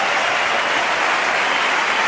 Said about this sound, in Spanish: Y ahí está recibiendo la ovación Fabio Biondi